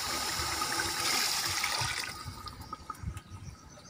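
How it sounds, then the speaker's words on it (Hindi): Water pours into a pot of camel pulao ahead of adding the rice, a steady rushing splash that fades and thins into a few scattered drips and small trickles. "अब इसमें चावलों के लिए जितना पानी आपने मैश किया हुआ है वो पानी डाल देंगे इसके अंदर"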